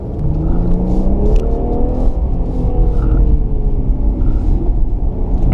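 An Infiniti Q50 Red Sport luxury sedan drives hard, its engine giving a loud, steady rumbling drone with rising and falling whine as it revs through the gears, heard from inside the cabin with no talking.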